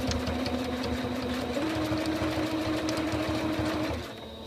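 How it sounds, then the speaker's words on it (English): A sewing machine stitches back and forth over the elastic in a cloth diaper, a steady rapid whirring motor with a slight shift in pitch partway, then slowing and stopping near the end. "sew back and forth a couple times"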